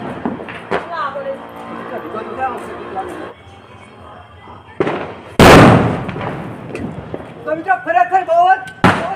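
A large Diwali firecracker bursts in a village with a single loud, sharp blast midway, following a stretch of talking voices and background noise, with voices and crackling activity continuing afterward.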